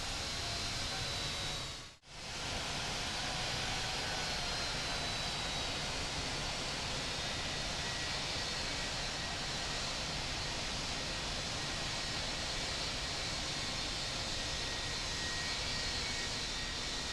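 Airliner taking off at London Heathrow in the Infinite Flight video game, a steady loud broadband jet engine roar held continuously, interrupted by one short dropout near the start.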